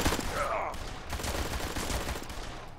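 Gunfire in the video game Blues and Bullets crackles as a rapid burst of shots, with scattered further reports following at moderate volume.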